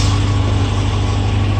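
A 2018 Dodge Charger R/T engine idles close by with a steady, low, throaty drone and no pauses, alone and without voices.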